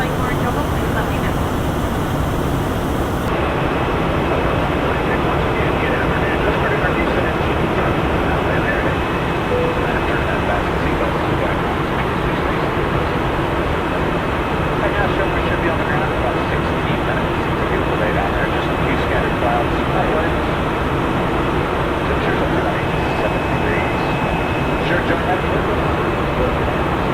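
Loud, steady roar of a United Express regional jet cabin in flight between Chicago O'Hare and Birmingham, a constant engine drone filling the whole stretch, with a voice speaking over it at times.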